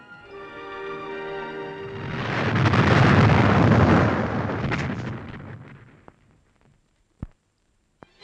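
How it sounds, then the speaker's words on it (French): A volley of mine blasts for railway tunnel work erupts into a loud, rumbling explosion that swells over a couple of seconds and slowly dies away, followed by a few sharp isolated cracks. "en actionnant un détonateur a déclenché la première volée de mines"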